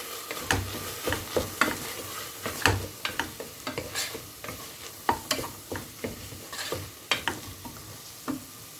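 Grated garlic frying in a pan is stirred, with soft sizzling under repeated scraping strokes of a utensil at an irregular pace, heard up close.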